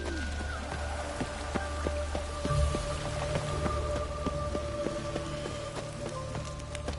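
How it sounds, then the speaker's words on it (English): Steady rain falls and patters across the whole stretch, with faint scattered drops ticking over a low, constant hiss and a soft low rumble underneath. "Rain again."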